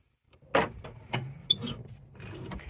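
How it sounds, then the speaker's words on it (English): Passenger door on a 2003 Chevy Roadtrek 190 camper van being opened: a quiet run of close mechanical clunks and latch clicks, with a sharp click in the middle and soft rattles trailing after. "And the other passenger doors open up."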